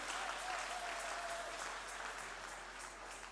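A church congregation claps steadily and warmly, sustained applause filling the space at a moderate distance with no break.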